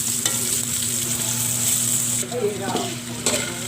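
Laing with pork and dried fish gets stirred in a pan, a steady sizzle and frying hiss running throughout with scraping stir strokes, close and fairly loud, dipping slightly partway through.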